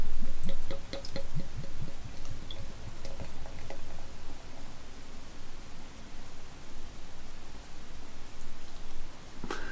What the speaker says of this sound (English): So let's get this into a glass.